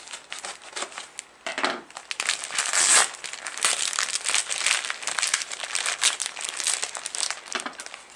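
Tightly sealed gift box packaging being torn open and crumpled, with continuous loud crinkling and rustling close by, in bursts over several seconds and no talking.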